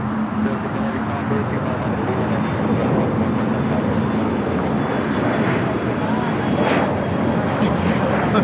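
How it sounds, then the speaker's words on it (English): An Air France Boeing 777-300ER arriving from Paris at Los Angeles airport gives a continuous loud engine rumble and whine close by, with a low steady hum and brief clicks and bumps on top. "This arrival, Air France, flight 24, coming in from Paris on the 777-300ER."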